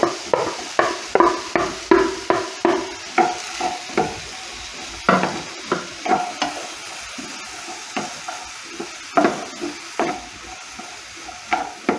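Apples frying in a pan for fried apple and sugar balls, stirred with a rhythmic run of close scraping strokes over a soft sizzle.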